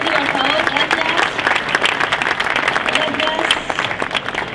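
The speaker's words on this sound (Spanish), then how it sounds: "Si pueden darle un aplauso, por favor." A theatre audience applauds to welcome an actor onto the stage, a dense, steady wash of clapping with a voice speaking over it partway through.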